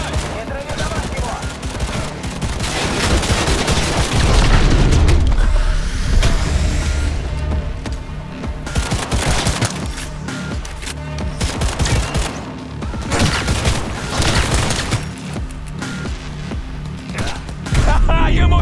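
Rapid gunfire crackles through a loud video game shootout, dense bursts of shots layered over a continuous din of action with shouting voices mixed in.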